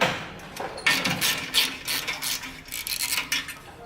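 Ratchet wrench loosening the exhaust clamps on a Harley-Davidson Softail, a series of quick, close clicking bursts in an uneven rhythm with brief pauses between pulls.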